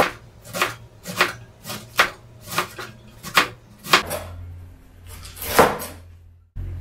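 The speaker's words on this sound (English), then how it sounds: "I-slice lang natin tong cabbage ng ganyan. Maninipis lang na slice." Cabbage sliced thinly with a knife on a cutting board, a close series of about ten crisp, regular chops that slow toward the end, with no talking.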